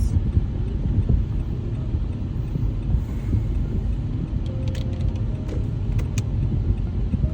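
A car drives along the road, heard from inside as a steady low rumble of engine and tyres, with a few faint small clicks near the end.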